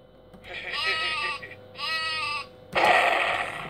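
Sheep sounds in a video game played on a Dell Latitude CPx-H500GT laptop: two drawn-out, wavering bleats followed by a louder, harsher burst, fairly close and clear over a faint background.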